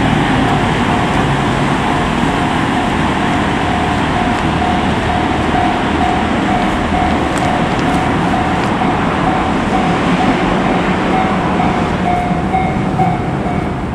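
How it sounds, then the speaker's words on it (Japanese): A Shibayama Railway train heads back toward Narita, giving a loud continuous rumble and rolling wheel noise throughout, with a faint steady whine above it and no voices. "僕が乗ってきた電車の折り返しですね。"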